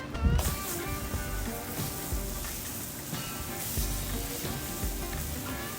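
Buffalo chicken burgers sizzle loudly and steadily on a grill, a constant crackling hiss with occasional pops and scrapes.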